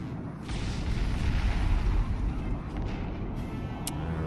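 Distant artillery fire and explosions rumble in the Cuban Missile Crisis war game, a low, continuous booming roar swelling and fading, faint and muffled with no clear individual blasts.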